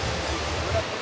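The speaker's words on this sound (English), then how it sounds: "The sound of water crashing down." Minoh waterfall, 33 meters tall among the trees, pours down in a steady, broad rushing roar, a continuous wash of falling water heard up close for about a second.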